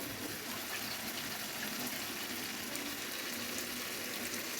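Water hits a hot pan of frying rohu fish, making a loud, steady hissing sizzle that continues without pause and with no voices.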